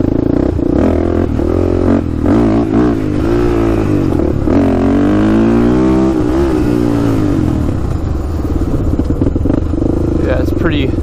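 A Honda 400ex quad engine revs steadily and loudly on a wet, dug-up track, its pitch rising and falling through long throttle sweeps with some clatter, the drone continuous and close throughout.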